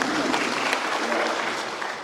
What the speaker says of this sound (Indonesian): tepuk tangan untuk bupati